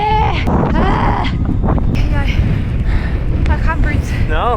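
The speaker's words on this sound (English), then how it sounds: "It's so windy" Strong coastal wind buffets the microphone with a constant low roar, while people talk and exclaim over the gusts.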